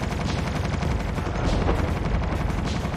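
Dense, continuous gunfire from the mobile shooter game Call of Duty Mobile, with a CBR4 loadout, rattling loudly and steadily for the whole stretch with no pauses or voices.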